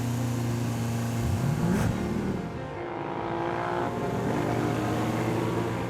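A race car's engine climbs in pitch as it speeds up, a loud, steady roar that rises through a sweeping whine before settling into a sustained high drone.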